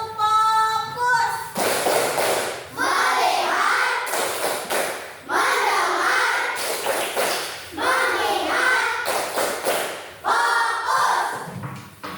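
Children clap out the tepuk fokus rhythm game in a classroom ice-breaker, sharp group claps arriving in rhythmic bursts between stretches of chanted speech, loud and close.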